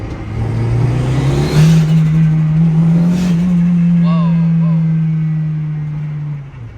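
An Acura RSX converted to all-wheel drive idles loudly with a steady low drone that rises in pitch as it revs, holding for several seconds before dropping off, in a residential neighborhood.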